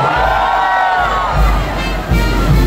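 Festival crowd at the Obando dance festival shouting together on cue, a loud sustained roar of many voices with whoops, swelling and dipping across the moment.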